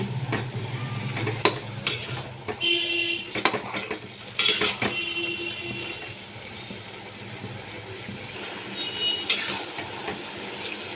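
Hilsa fish head being mixed with spices in a bowl without water: intermittent clinks and scrapes of utensil against the bowl, close and moderately quiet, with soft, wet mixing between the sharper knocks.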